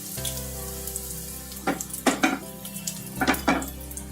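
Asafoetida dropped into hot oil in a pan for ginger chutney, a soft crackling sizzle with a few light clinks of a spoon against the pan, close and fairly quiet.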